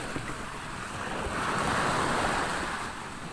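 Wind-driven ocean waves of about 1.5 to 2 meters wash against a boat at sea, a steady broad roar of surf and wind that swells in the middle, with no voices.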